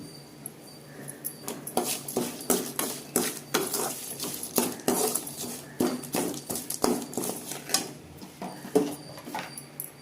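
A spoon mixing cooked, cooled rice with sesame and salt in a dish makes a steady run of close, sharp scrapes and taps against the dish.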